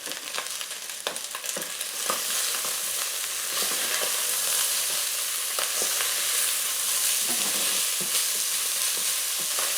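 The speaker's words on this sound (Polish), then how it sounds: "Jak taką cebulkę razem z tym mięskiem teraz podsmażę, nie musi być dużo podsmażona." Onion and beef frying in a WMF Perfect 4.5 l pressure cooker pot for goulash, a loud dense sizzle that swells after a few early stirring clatters, steady and close throughout, no voices.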